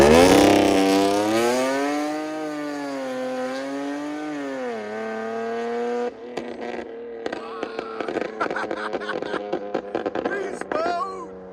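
A 2017 Nissan 370Z with headers and a Motordyne cat-back exhaust revving loudly, a long rising and falling roar, then a rapid series of sharp pops and crackles from the exhaust.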